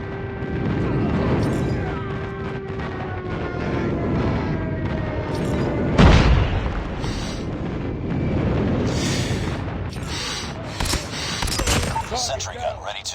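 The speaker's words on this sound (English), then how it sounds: "Friendly airstrike incoming." Heavy airstrike blasts in a team deathmatch shooter game, a loud booming burst near the middle over continuous gunfire and battle noise, with game voice callouts throughout.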